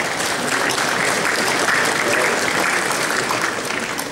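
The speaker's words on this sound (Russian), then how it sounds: "Здесь аплодисменты." Sustained applause from a large audience at a Russian cultural forum, dense and steady throughout without voices on top.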